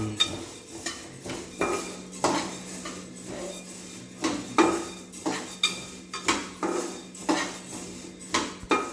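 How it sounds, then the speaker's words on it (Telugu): Ingredients being fried in a pan on low heat for laddus, a metal spoon scraping and clinking against the pan in a steady repeated rhythm, close and clear. "గోల్డ్ కలర్ వచ్చే వరకు కలుపుతూనే ఉండాలి లేకపోతే మాడిపోతాయి"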